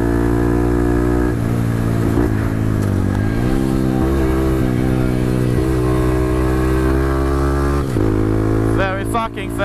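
A small Honda Grom motorcycle engine revs hard at speed, a loud steady buzzing drone with pitch rising and dipping through gear changes and throttle shifts, close to the rider.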